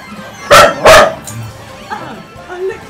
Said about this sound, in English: Shush, MyMod dog. She's just excited because of her mom